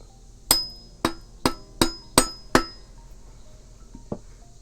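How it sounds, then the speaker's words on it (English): Six sharp knocks ring out as a wooden block taps a motorcycle bracket down on a Honda CRF110 Grom swap, spaced roughly evenly with a metallic ring, followed by a couple of fainter knocks. "I think we need to tap this piece down. I don't have a hammer, but I got a wooden block."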